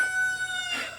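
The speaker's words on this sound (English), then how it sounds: "Even though my roosters are noisy" A rooster crows once at close range, a brief raspy call rising near the end over a faint steady background tone.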